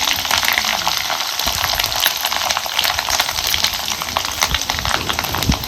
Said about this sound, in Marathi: तेल चांगलं गरम झालंय आता ह्याच्यात आपण कुटून घेतलेला लसूण खोबरं टाकायचं